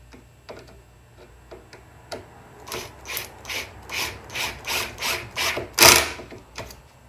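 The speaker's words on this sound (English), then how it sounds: "This is an impact gun here from Makita" A Makita impact gun drives screws into wood in an RV galley cabinet, a few light clicks then a run of rhythmic rattling impact bursts building to one loud hammering peak, close and alone.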